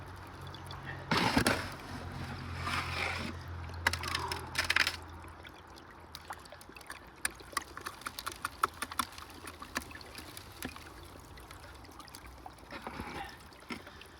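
Water in a small Oregon creek trickles and flows faintly in winter at a gold-sluicing spot. A few louder splashes and knocks come early, then a quiet, steady babble continues.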